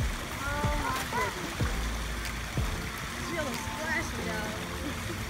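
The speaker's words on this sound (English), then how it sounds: "She's splashing." Someone splashing water in a swimming pool, with repeated irregular splashes and sloshing under cheerful voices talking nearby.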